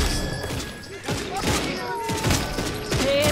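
Gunfire in the vampire shooter Redfall crackles in a dense, rapid fusillade of sharp shots and thuds, close and loud, with voices talking over it.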